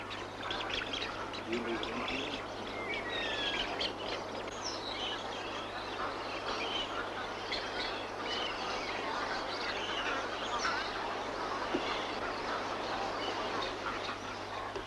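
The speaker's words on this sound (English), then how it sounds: "the great numbers of birds that now inhabit the swamp" A large flock of birds calls continuously in a swamp at Western Port, with quacks, chirps and squawks overlapping against a steady outdoor hum.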